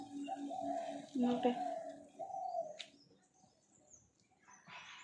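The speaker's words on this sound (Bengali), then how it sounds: "এই হচ্ছে সকালের প্রকৃতি সকল পাখিরা চলে এসছে" Morning birdsong outdoors: doves coo in a few soft repeated phrases while other small birds chirp, the calls fading toward the end with a faint distant texture remaining.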